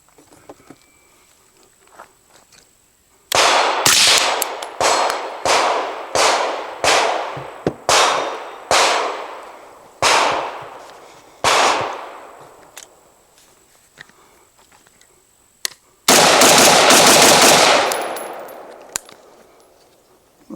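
Close, loud gunshots from a Stealth Additive Works Tisha 5.56 rifle, about a dozen sharp reports in an uneven string, then a short rapid burst.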